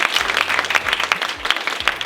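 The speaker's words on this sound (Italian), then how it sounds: "This applause for you." Audience applause at a tech community event's awards moment, steady dense clapping from a crowd filling the whole stretch, fairly close and loud.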